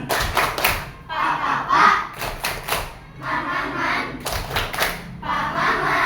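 A classroom of fourth-grade children claps out the Tepuk Pak Maman routine in rhythmic bursts of group clapping, with voices chanting between and over the claps.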